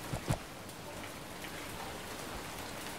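Rain patters steadily in Survival: Fountain of Youth, a dense, close hiss of drops hitting surfaces, with a couple of heavier splats near the start and no talking.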